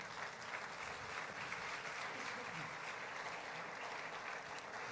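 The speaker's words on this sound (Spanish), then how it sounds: "Denle un aplauso fuerte al Señor" A church congregation claps together in a steady, sustained round of applause that sounds somewhat distant and muffled, with no clear talking over it.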